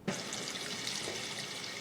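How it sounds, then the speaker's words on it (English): A garden hose runs hot tap water into a dye pot in a studio, giving a steady, close, hissing rush of flowing water that starts abruptly and continues evenly for under two seconds. "I have my handy dandy hose here. I'm going to get that going"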